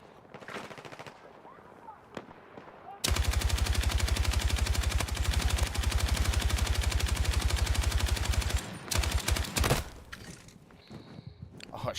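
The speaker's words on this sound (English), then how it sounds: "Oh, a shot from right behind." Sustained rapid automatic gunfire in the video game Battlefield 6, loud and close, a dense burst running about six seconds, framed by scattered single shots and muffled combat noise, with players talking over it.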